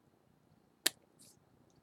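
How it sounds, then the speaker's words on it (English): Scissors snip through a plastic hair-roller ladder piece in a single quick, crisp cut, quiet and close, with a faint rustle just after. "it cuts real easy with the scissors."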